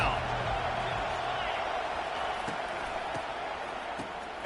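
A home crowd roaring in a college football video game on a third down, a steady dense wall of cheering noise throughout, with occasional thumps and a commentator voice over it.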